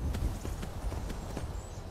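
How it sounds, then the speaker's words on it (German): A horse walking in the video game Skyrim, its hooves making a string of soft, quick clip-clops. The clops are faint and short, with no talking over them. "Gut, hier ist ein Pferd."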